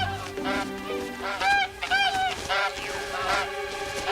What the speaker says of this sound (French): Oh, des oies sauvages.